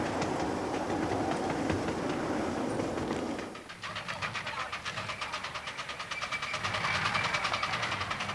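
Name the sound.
miniature steam railway train running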